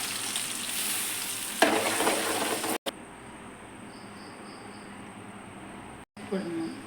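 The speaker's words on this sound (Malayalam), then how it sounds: "തേങ്ങ അരച്ചിട്ട് തേങ്ങയുടെ അരപ്പാണ് ഒഴിക്കുന്നത്" Ground coconut paste goes into hot oil tempered with curry leaves and sizzles loudly, then the frying settles to a quieter, even simmer with brief dropouts and faint rhythmic chirps in the background.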